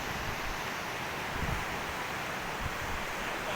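A glacier meltwater river flows through the valley toward Naran, making a steady, loud, broadband rush of water that stays even throughout, with no voices.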